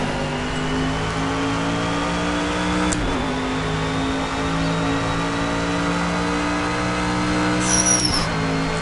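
A race car engine in the video game Project CARS drones loudly and steadily at high revs, with a couple of brief gear-change dips and a short squeal near the end, and no talk.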